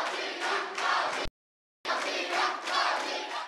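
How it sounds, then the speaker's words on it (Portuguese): Loud crowd of neighbours in an apartment building cheering and shouting for a girl competing on The Voice Kids, in sustained bursts broken by a short cut to silence. "E que torcida, hein?"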